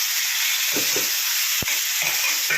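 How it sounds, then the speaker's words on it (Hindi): Chopped garlic sizzles steadily in hot oil in a pan, a loud, continuous frying hiss with a few faint clinks of stirring. "पका देंगे हम लहसुन को जब तक इसका थोड़ा सा कलर गोल्डन नहीं हो।"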